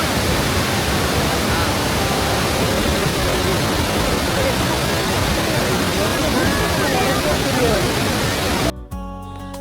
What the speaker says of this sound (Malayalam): ഏകദേശം 80 അടി ഉയരത്തിൽ നിന്നാണ് ഈ വെള്ളച്ചാട്ടം താഴോട്ട് പതിക്കണത്